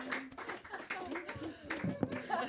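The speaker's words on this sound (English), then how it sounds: "Thank you all for clapping." Audience applause in a coffee house during a Friday night concert, a light patter of hand claps layered with talking and a few louder individual claps.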